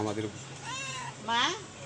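A cat meows at night outside a shop that is closing for the night, with two or three drawn-out, rising-and-falling mews, the last louder and closer.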